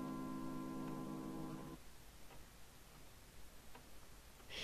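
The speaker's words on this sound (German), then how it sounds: "Nur das Ticken der Uhr zu hören." Faint, sparse clock ticks from the video game Vampire: The Masquerade – Bloodlines sound in a quiet room after a short tonal hum fades, spaced out at a slow, even pace.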